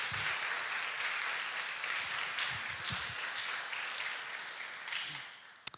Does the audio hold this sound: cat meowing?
no